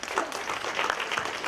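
At a federal congress plenary session, a large indoor audience breaks into brief, dense applause, a continuous rustle of many hands clapping together.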